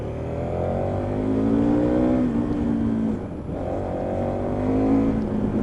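A 2015 KTM 1290 Super Adventure motorcycle engine pulls hard through the gears, its droning note rising in pitch twice with a brief dip at a shift, loud and close under wind rush.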